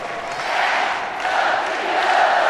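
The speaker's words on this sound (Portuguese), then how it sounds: "A torcida grita, é campeão" At the Maracanãzinho in Rio, the volleyball crowd at the Pan American Games final between Brazil and the USA roars and chants champion, a broad, sustained wall of massed voices from a distance.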